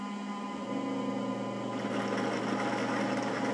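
Dreame L10 Prime robot mop base cleaning its mops and drawing up water: a continuous mechanical pump hum that steps up in intensity partway through and stays loud and steady, with no voices.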